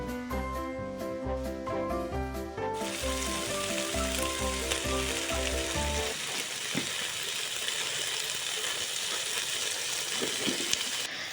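Potatoes fry in a pan for rohu fish curry with a steady, close hiss of sizzling oil, at first under a sustained musical tone and then on their own with a few light clinks.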